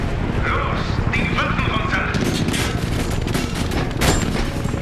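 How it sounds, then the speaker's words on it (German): Enemy gunfire in the video game Medal of Honor Warfighter, dense crackling bursts layered over a steady roar of game noise with a sharper burst near the end, while someone talks over it. "jetzt schießen die auf mich"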